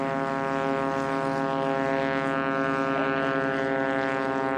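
A Cessna 180 taking off in a STOL drag race, its piston engine and propeller giving a loud, steady droning roar up close with no talk.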